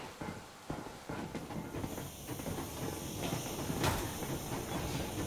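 Yermak steam train rolling in Metro Exodus, a steady broadband rumble with hissing steam and faint rail clatter, continuous and fairly loud throughout.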